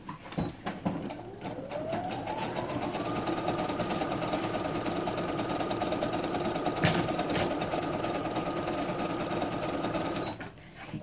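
A sewing machine back stitches a pillow, running as a steady, close, continuous mechanical whir and rapid needle clatter for about ten seconds before stopping.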